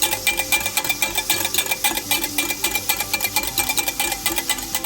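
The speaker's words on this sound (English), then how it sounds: "So let's get back at whisking the eggs." Eggs whisked by hand in a bowl make a fast, regular clatter of rapid rhythmic strokes, close and steady throughout, with no talking.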